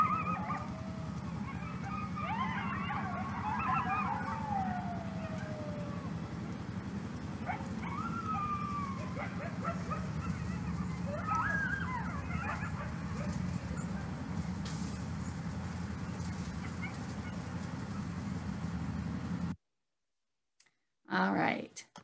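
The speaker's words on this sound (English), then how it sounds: "you could hear a little bit more of the barking, some of the yipping, and then also a little bit of the howling" Coyotes yip, bark and howl from a moderate distance over constant outdoor hiss, with high wavering cries rising and falling before the sound cuts out.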